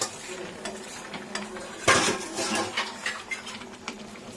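Shredded cabbage being sautéed in a kadai, a utensil scraping and clattering against the pan in irregular strokes, with a sharper knock partway through, close and fairly loud.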